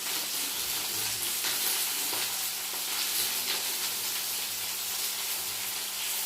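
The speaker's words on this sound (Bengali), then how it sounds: "তো সিমগুলো ভাজা ভাজা হয়ে যাক" Flat beans fry in a pan of oil with salt and turmeric, giving a steady, even sizzle and hiss that stays constant with no talking.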